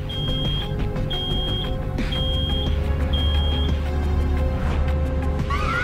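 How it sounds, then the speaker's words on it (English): In the video game Road 96, a high electronic alarm sounds in repeated steady beeps over a constant low vehicle engine drone. "It's an alarm!"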